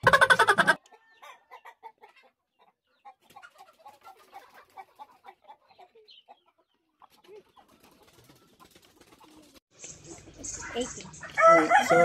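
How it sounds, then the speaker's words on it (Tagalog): A loud burst of chicken clucking opens, then faint clucks and calls scatter through a quiet stretch at a heritage chicken farm's breeder house, before loud fowl calls and people talking close it. "O diba napakaangas ng kulungan ng manok ni Sir Steven, ang ganda."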